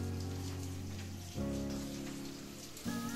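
Rainwater from a terrace pouring out of a rainwater harvesting filter outlet, a steady close rushing splash with shifting tone and a couple of surges, no voices.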